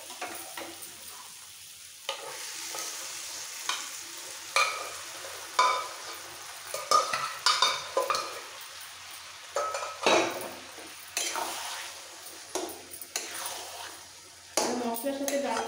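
Boiled dal is stirred and fried with a tomato and onion masala for restaurant-style tarka, with loud sizzling and repeated scraping strokes and metallic clinks of a spoon against the pan, while a person talks throughout.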